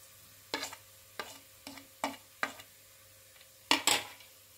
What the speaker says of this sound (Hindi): अब हम इसमें हल्दी डाल देते हैं।